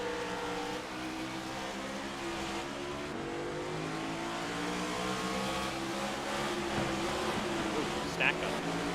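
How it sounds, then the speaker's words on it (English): A pack of NASCAR stock cars in iRacing roar off the start at Las Vegas, a dense continuous engine drone with rising, layered revving tones that swell steadily. Someone speaks faintly beneath the engines. "Here we go for the start with Cole Clausen."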